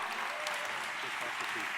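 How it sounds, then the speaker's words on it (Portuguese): A group claps in a steady, moderately loud burst of applause while a voice speaks over it. "aplaude ele aí, ó"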